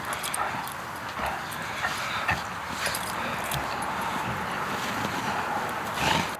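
A dog in snowy outdoor surroundings near a snow shovel makes scattered soft whimpers and sniffs against a steady broadband hiss, with a slightly louder burst near the end.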